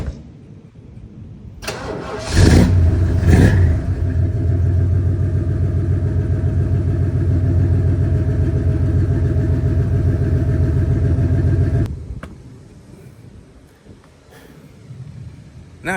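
A 1978 Ford Thunderbird's engine cranks and catches after a brief start, then runs at a steady, loud idle for about nine seconds before shutting off, leaving quieter background noise behind.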